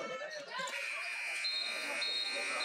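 A basketball game buzzer sounds at the end of a quarter at a high school homecoming game in a gym, a sustained electronic tone rising over crowd noise and talk.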